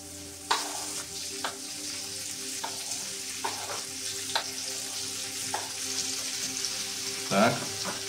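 Onion added to bacon browned to crisp cracklings, frying in a pan with a steady close sizzle and occasional sharp clinks and scrapes of stirring, no voice.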